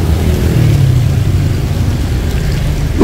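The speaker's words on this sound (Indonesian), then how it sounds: "Macet guys" Night traffic jam on Malioboro street in Yogyakarta in the rain, a steady dense rumble of idling and creeping car engines close by, continuous and loud with no talking.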